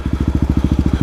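A motorcycle engine idles close by, a loud, low, evenly pulsing putter with a regular rhythm.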